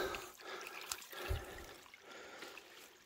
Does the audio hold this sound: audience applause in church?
no